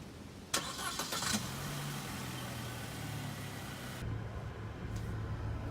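A car's engine turns over by remote start, a short burst of cranking followed by a steady, close idle hum that continues alone without talk.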